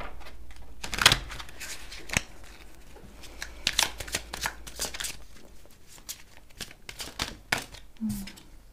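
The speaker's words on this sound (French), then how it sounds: "quand je coupe, on a l'abondance et on a la mort." Tarot cards are shuffled and cut by hand close by, in quick riffling bursts and sharp flicking snaps separated by short pauses, ending with a soft low tap.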